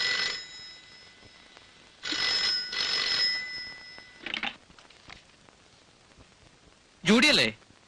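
A telephone rings indoors in a Malayalam family film scene, with several bursts of a bright bell ring separated by pauses, then one final louder ring; a voice is briefly heard between rings.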